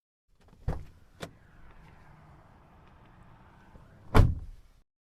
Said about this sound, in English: The car doors opened and closed.